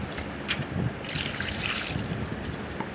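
Ridge gourd and greens are washed together in water, giving faint, soft splashing and sloshing with a few light knocks against a gentle background hiss.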